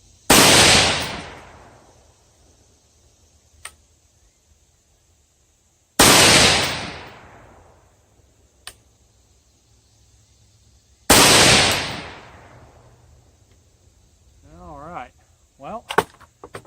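Three loud, sharp rifle shots from a Davidson Defense 6.5 Grendel 18-inch upper, spaced about six seconds apart outdoors. Each report has a long ringing decay, and faint clicks and brief mechanical noises follow at the end.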